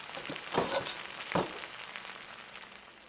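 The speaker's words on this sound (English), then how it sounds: "When you can hear that spaghetti frying again," Soft sizzling of spaghetti frying in a pan, with a couple of louder bursts of crackle, fading to a quieter steady hiss.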